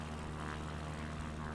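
Propeller airplane engine in a flight simulator game, throttled back for landing: a faint, steady droning hum with low tonal bands, continuous and without speech.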